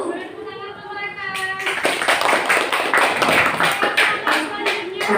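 An audience claps for presenters after a group presentation in a classroom. A voice speaks first, then a full round of rapid overlapping claps takes over and carries on to the end.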